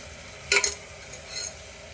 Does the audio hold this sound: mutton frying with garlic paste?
yes